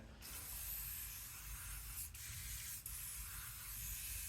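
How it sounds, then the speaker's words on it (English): A steady hiss of aerosol lubricant spray on a Range Rover Evoque transfer box runs nearly the whole time, close and continuous, with two tiny breaks near the end. "I know I said spraying lube ain't gonna do nothing, but you're supposed to do it."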